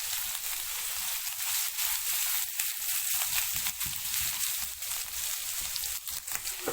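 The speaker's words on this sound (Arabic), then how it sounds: "هنزل بطاطس واحده واحده واهرسها اهو" Potatoes sizzling in hot oil in a pan while being mashed, a steady close crackling fry with soft irregular scraping and pressing sounds mixed in.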